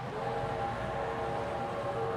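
A sensor-triggered train sounds beside a mini golf course, its sustained horn-like tones held over a continuous rolling rumble at moderate volume, with no voices.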